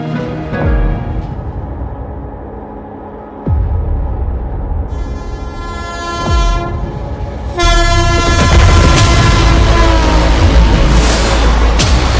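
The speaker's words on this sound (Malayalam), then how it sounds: "ന്യൂസ് 18 എക്സ്പ്രസ് 1-ാം നമ്പർ പ്ലാറ്റ്ഫോമിലേക്ക് അല്പസമയത്തിനകം എത്തിച്ചേരുന്നതാണ്" A train pulls into a railway platform with loud, sustained horn blasts over a rising, heavy rumble of wheels and cars that swells louder toward the end, with no voices.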